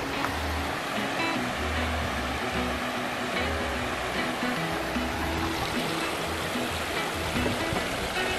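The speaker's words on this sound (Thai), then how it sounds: "ตัวนี้สร้างขึ้นมาใหม่นะครับจะเป็นลำธารจากอ่างเก็บน้ำครับ" A newly built stream flowing from a reservoir at a resort in Suan Phueng, Ratchaburi, rushes in a steady, dense, continuous wash of water, close and loud, with no talking.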